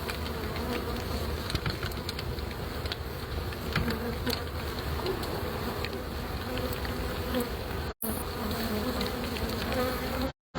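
Dense swarm of bees from a hive being removed from a house's eaves, a continuous loud buzzing drone that fills the whole stretch, with brief cut-outs near the end and no talking.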